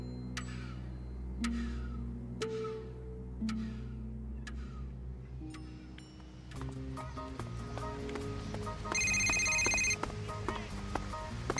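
A telephone rings repeatedly in a classic sci-fi horror radio drama, the bell bursts spaced evenly over a low musical underscore, followed by a shift to busier music and a brighter electronic tone near the end.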